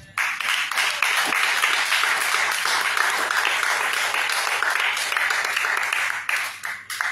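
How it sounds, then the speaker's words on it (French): Church congregation clapping and cheering to acclaim Jesus during a French-language service, a dense, steady wash of applause sustained for several seconds before tapering off near the end. "Acclame Jésus."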